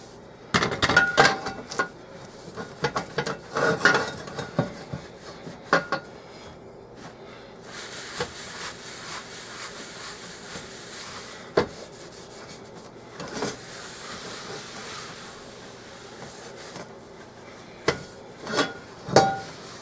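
Old dish towel rubbing over a seasoned cast iron pan, soft scrubbing strokes in uneven bursts with occasional light knocks of the iron, fairly close and moderately quiet, no talking.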